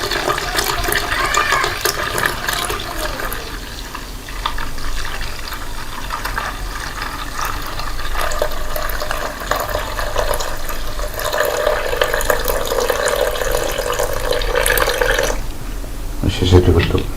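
Pure distilled water pours steadily into a container for making handwash, a continuous splashing flow close by that runs for most of the stretch before ending abruptly near the close.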